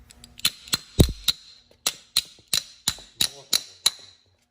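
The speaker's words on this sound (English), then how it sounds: "Let's take this with the hammer or something here" A hammer strikes a metal part of a Bobcat skid steer fan drive motor about a dozen times in a fairly steady rhythm, each blow a sharp ringing clank, close and loud.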